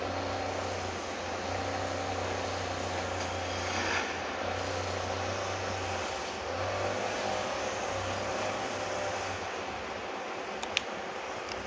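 A video game car engine drones steadily and loudly, holding a sustained revving hum with slight pitch swells, and no one speaks over it.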